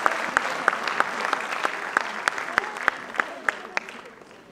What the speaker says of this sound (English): Dear parents, put your hands together and give a huge round of applause